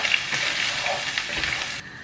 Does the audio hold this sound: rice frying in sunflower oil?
yes